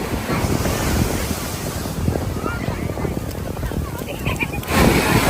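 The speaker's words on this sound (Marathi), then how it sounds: "एवढी मोठी लाट येणार" Large ocean waves break and wash ashore at Chowpatty beach, a loud rushing roar mixed with gusty wind buffeting the microphone and a surge near the end.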